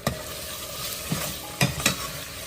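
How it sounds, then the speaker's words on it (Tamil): Tomatoes sauté with rock salt in a pan at home while cooking fish kulambu, a soft continuous sizzle broken by a few close spoon-stirring scrapes and clicks. "ஃபர்ஸ்ட் வந்து நல்லா தக்காளி வதங்கட்டும்"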